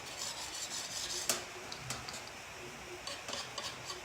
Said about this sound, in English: I've wet my finger and rubbed it along the edges